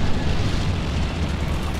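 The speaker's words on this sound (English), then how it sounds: "Anti-tank and anti-infantry strafes coming in now on the center point." Anti-tank strafes in a real-time strategy battle set off dense, continuous explosions, a loud rumbling wash of blasts and booms with no clear gaps between them.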